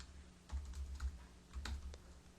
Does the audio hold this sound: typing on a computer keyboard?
yes